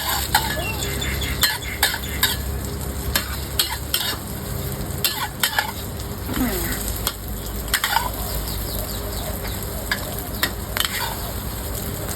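Beaten egg fries for an omelette in hot, bubbling oil, a loud continuous crackling sizzle close by, punctuated by sharp spatula scrapes and taps against the pan.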